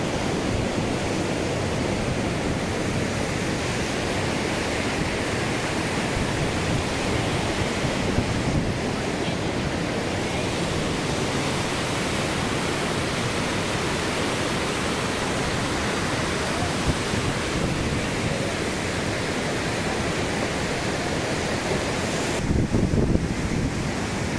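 Floodwater surges through the Prakasam Barrage at Vijayawada in a steady, loud, broadband roar of rushing water that holds constant and close throughout, with light wind buffeting against the microphone.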